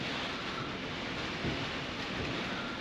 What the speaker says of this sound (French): Il y a du vent et de la pluie.